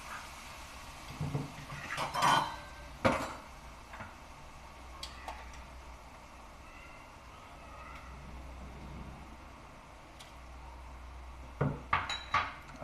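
Tomato puree going into a pan of egg gravy and being stirred in, with scattered spoon-on-pan clinks and scrapes in short bursts over a quiet kitchen background.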